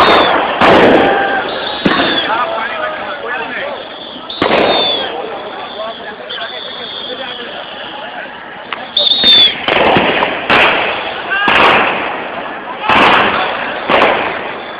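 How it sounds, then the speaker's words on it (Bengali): Police firing rubber bullets and sound grenades at a street clash with Hefazat activists, sharp loud bangs repeating irregularly over a constant crowd roar and shouting voices. "পুলিশ রাবার বুলেট এবং সাউন্ড গ্রেনেড ছুটছে"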